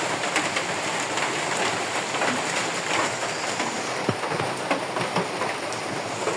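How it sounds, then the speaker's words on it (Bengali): Steady light drizzle falls continuously as an even hiss, with faint bird calls scattered through it. "দেখেন এদিকে একদম রিমঝিম বৃষ্টি।"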